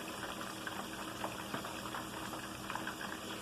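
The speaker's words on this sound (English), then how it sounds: "So our chicken is still frying away." Chicken seasoned with black sesame, garlic and ginger deep-frying in hot oil, giving a steady dense crackle and bubbling hiss with small pops, close and continuous with no talking.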